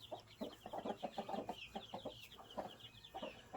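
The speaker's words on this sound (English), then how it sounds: "the mama Rhode Island Red is doing very good taking care of them" A Rhode Island Red hen clucks softly and repeatedly among her newly hatched baby chicks, a faint, close series of short calls with small peeps.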